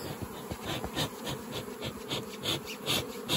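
Honeybee swarm buzzing steadily and close while being shaken into a top-bar hive, a dense insect hum with rising and falling swells and no voices.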